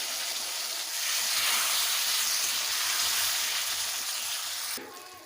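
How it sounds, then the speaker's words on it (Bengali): Potatoes sautéing in a hot pan for a fish roe masala curry, a loud, steady sizzle and hiss close up throughout, swelling slightly then dropping off sharply near the end. "আলুটাকে ভালো করে কষিয়ে নিয়েছি"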